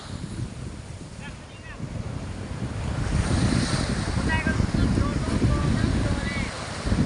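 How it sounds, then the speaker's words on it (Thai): Strong, high surf churns and crashes on the beach at Samila, Songkhla, under gusting wind rumbling on the microphone, growing louder and more forceful after the first few seconds. "วันนี้คลื่นแรงนะครับคลื่นสูงแล้วคลื่นแรง"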